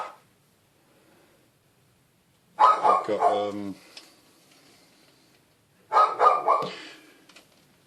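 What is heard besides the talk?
dog barking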